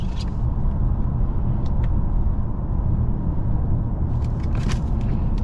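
A 2019 Toyota Camry XSE driving, a steady loud cabin rumble of engine and road noise throughout, with a few faint higher clicks and rattles on top.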